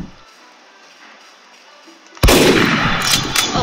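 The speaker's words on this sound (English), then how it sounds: "you guys stop shooting the windows" Sudden burst of loud gunfire in the video game Garry's Mod after a near-silent stretch, with dense shots continuing to the end.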